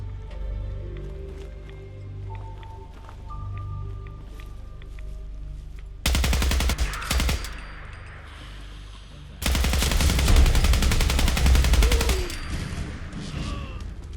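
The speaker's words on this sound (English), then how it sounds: "I was gonna say, that's a turret somewhere." Automated turret gunfire in Fallout 4's Far Harbor expansion: two loud bursts of rapid machine-gun fire, the second longer, separated by a lull of quieter ambience.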